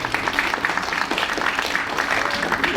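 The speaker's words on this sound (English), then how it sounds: "A round of applause, please, for our lava melter." An audience at a lava show in Reykjavik applauds the lava melter with a steady wash of clapping from many hands. The applause is moderately loud and continuous, with scattered voices underneath.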